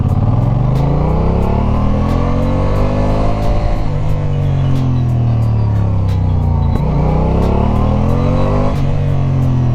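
A QJMotor Race 550S motorcycle accelerates hard, its loud close engine note climbing in pitch through two gear runs with a brief dip between, steady and uninterrupted with no talking.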